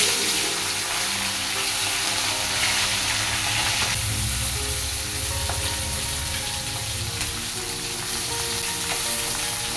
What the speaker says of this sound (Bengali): তেলটা গরমও হয়ে গেছে এবার মাছ দিয়ে